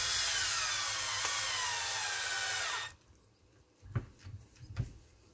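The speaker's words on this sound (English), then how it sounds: "Bogging down the drill is a smidge." A power drill runs loud and steady for about three seconds, bogging down while threading a part on an Arrma Kraton 8S RC car, then stops, followed by a few short bursts of tool noise.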